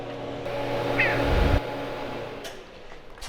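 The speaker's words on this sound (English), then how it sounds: "All right, look out, cat." Cat in a truck shop gives a single brief meow around midway, heard over low workshop rumble and background noise.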